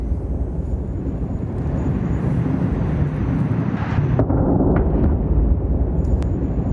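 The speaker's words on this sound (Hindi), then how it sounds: "धमाके कितने खतरनाक थे ये भी आपको सुनाते हैं" A heavy, continuous low roar of explosions in Tehran during the Israel–Iran war, like distant blasts rumbling, with no distinct sharp blasts standing out.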